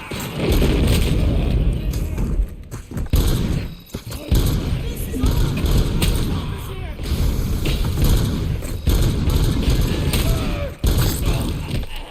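Dense gunfire and booming blasts from the combat video game RoboCop: Rogue City, with a gory exploding enemy face amid a loud, continuous barrage and thuds.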